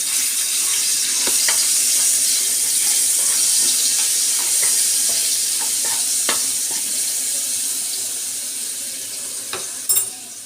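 Garlic sizzles steadily in hot oil, a bright continuous frying hiss with small pops and a few stirring clicks, fading slightly toward the end.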